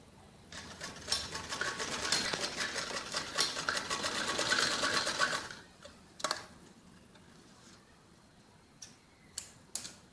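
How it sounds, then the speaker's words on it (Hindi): Domestic sewing machine stitching pieces of a jacket frock, a fast steady rattling run of needle strokes for about five seconds, then a few short clicks and bursts as the fabric is adjusted. "और दोनों पीस में ऐसे ही सिलाई लगाएंगे।"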